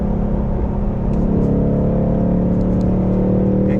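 Steady droning engine note from a Ford Mustang Mach 1, a sustained low rumble held at a fairly constant pitch with slight rises, loud and close throughout with no talking.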